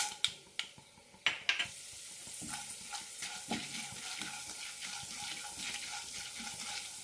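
A quarter teaspoon of mustard seeds pops in hot oil in a pan, giving a few loud, sharp cracks at first. A steady close sizzle follows, with scattered smaller pops and no talking.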